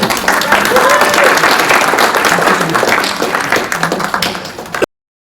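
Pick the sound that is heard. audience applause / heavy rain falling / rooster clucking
audience applause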